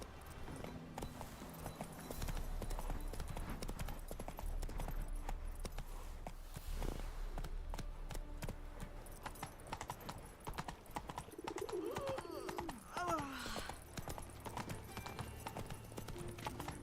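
Steady clip-clop of Roach the horse's hooves in The Witcher 3, a continuous rhythmic trot running close and even throughout, with faint background game sounds.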